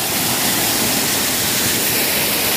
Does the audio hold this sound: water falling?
yes